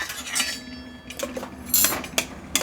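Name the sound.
stirring corn and capsicum bowl after adding coriander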